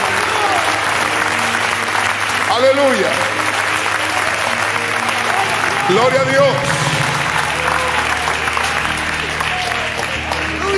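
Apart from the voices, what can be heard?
congregation applauding in church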